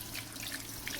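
Warm water running from a kitchen tap into a sink, a soft, steady trickling stream with light splashes, fairly quiet and close, with no talking.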